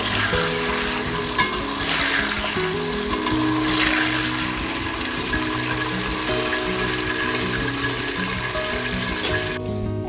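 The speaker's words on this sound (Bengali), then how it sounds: "এই যে ডিমগুলো এখন ভেজে নিচ্ছি" Eggs fry in a pan on a stovetop with a continuous, close, loud sizzle and crackle, with faint steady tones underneath and no speech.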